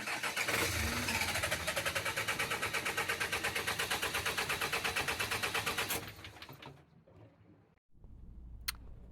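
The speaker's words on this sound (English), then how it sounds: "This is what an engine sounds like if it has a very dirty Raycor fuel filter." Sailboat diesel engine cranking but failing to fire because a very dirty Raycor fuel filter starves it of fuel, a loud rapid chugging drone for about six seconds that then cuts out, followed by quieter rumble and a click.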